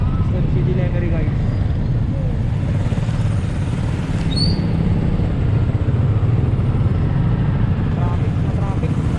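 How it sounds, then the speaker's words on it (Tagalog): Street traffic in Lemery City, a steady rumble of passing motorcycles and cars close by, with a brief horn-like tone in the middle and a voice talking over the engine noise. "Traffic."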